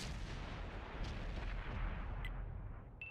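Tank guns boom through a Clan Wars frontline battle in an online tank game, a loud, dense and continuous wash of cannon fire and battle noise with no talk.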